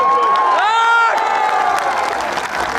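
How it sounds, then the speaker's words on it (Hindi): Large outdoor political rally crowd in Bihar cheering and clapping, loud whistles and shouts rising over a steady wash of applause. "इसके लिए जोरदार ताली बजाओ।"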